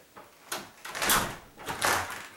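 A door is pushed shut with a couple of scraping, rubbing movements followed by a soft thud as it closes, heard up close in a quiet room.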